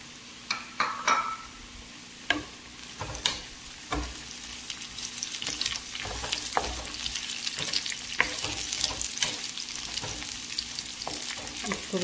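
Capsicum frying in a pan of mixed vegetables sizzles steadily while a spatula clacks and scrapes repeatedly, the sizzle growing denser toward the end.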